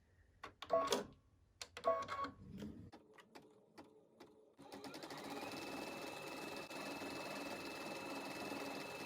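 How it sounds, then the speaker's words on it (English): A Baby Lock Solaris embroidery machine stitches a fill stitch. A few close handling clicks and thumps come first, then the machine settles into a steady, continuous mechanical whir. "Next, let's continue to stitch our fill stitch."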